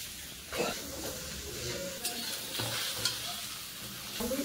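Pre-fried potato and cauliflower pieces sizzle in spiced oil, with spoon scrapes and stirring knocks breaking through a continuous close hiss.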